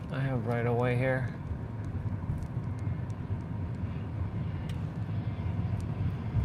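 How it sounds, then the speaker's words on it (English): An airplane passes overhead in San Diego with a steady, broad jet roar heard from a car. A voice speaks briefly at the start before the roar carries on alone. "Airplane flying over my head."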